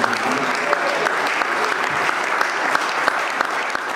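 A church congregation claps steadily and loudly through the whole stretch, a dense wash of applause with scattered sharper hand slaps and faint voices mixed in.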